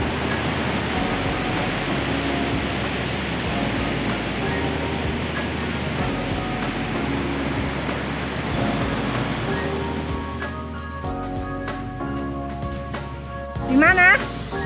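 Steady broadband rush of a river flowing beside a restaurant in a forest setting at Baturaden Adventure Forest, continuous and fairly loud, with people talking over it and a brief higher-pitched voice near the end.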